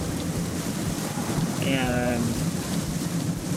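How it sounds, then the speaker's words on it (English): Heavy rain falls steadily in coastal Louisiana as a dense, even hiss, and a voice speaks briefly over it. "So, it's raining."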